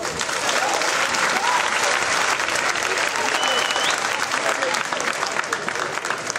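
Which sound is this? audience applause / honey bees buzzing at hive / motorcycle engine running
audience applause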